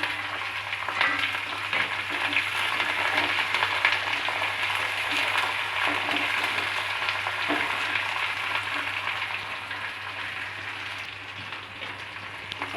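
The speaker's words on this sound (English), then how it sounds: "sauteed the onions for 5 to 6 minutes." Onion and green chili sautéing in a pan for a Bengali mustard fish curry, a steady dense crackling sizzle with occasional stirring, close and even, easing slightly toward the end.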